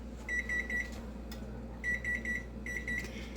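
A kitchen timer on a stovetop beeps in three short bursts of rapid high beeps while no-bake cookie ingredients boil, with a steady low kitchen hum underneath.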